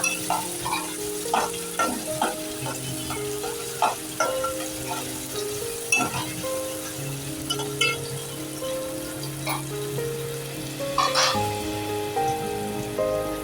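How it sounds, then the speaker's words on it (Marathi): Chopped onions frying in hot oil for a prawn rice dish, a steady close sizzle with repeated stirring clacks and scrapes of a spoon against the pan, no talk. "आपलं तेल तापलेलं आहे आता आपण त्यात घालतोय कांदे छान परतवून घेऊया"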